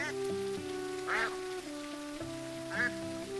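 Duck-like Quackeries creatures quack in a video game, two bright nasal calls about 1.5 seconds apart over a steady background of game music tones and a soft rain-like hiss.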